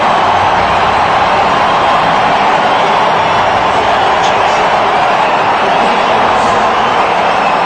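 A packed stadium of at least 20,000 Indian cricket fans roars as one at a T20 match against Australia, a loud, dense, unbroken wall of crowd noise that stays steady throughout.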